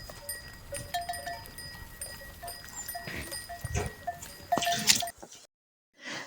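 Several goats bleat in short, scattered calls at a moderate distance in a remote village in Pakistan, with faint rustling and soft clinks between them before it falls quiet.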